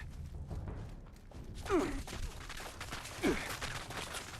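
Turret gunfire in Fallout 76, a faint distant crackle of rapid shots that grows denser after a low rumble, with a couple of louder mechanical whirs mixed in.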